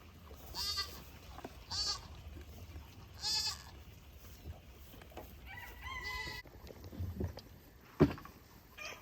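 Several goats bleat in turn, loud nasal calls spaced a second or so apart, with farmyard rustling and a sharp knock near the end.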